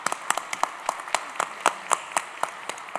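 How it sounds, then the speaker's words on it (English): Scattered, sparse clapping from a small audience at an alumni association scholarship ceremony, distinct individual claps in an uneven rhythm over three seconds, fairly quiet. "So let's have a big round of applause for Mr. Karam."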